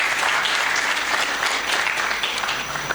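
A crowd of spectators claps and cheers loudly to welcome the Lycée Blaise Diagne team at a quarter-final school quiz competition, continuous dense applause with no pauses throughout.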